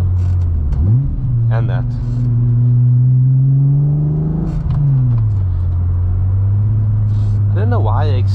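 A modified 12-valve VR6 engine in a Mk2 Golf GTI with cams revs up and settles back to idle several times, a steady mid-pitched drone rising and falling, with a brief spoken remark.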